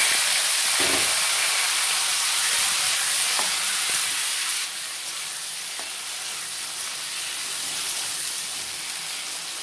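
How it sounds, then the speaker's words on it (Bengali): Taro pieces fry in mustard oil in a wok with five-spice tempering, making a loud, steady hiss and sizzle that eases slightly partway through, with no voices. "এখন আমি গাটি কচুগুলো দিয়ে দিলাম"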